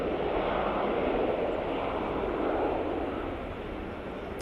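Jet aircraft at Manchester Airport idling and taxiing in the departure queue, a steady broad engine roar heard from some distance, constant throughout with no voices.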